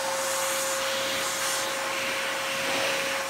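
A Eureka Rally 2 vacuum cleaner with a hole in it runs steadily and loudly nearby, a dense rushing whoosh with a constant high tone and no pauses.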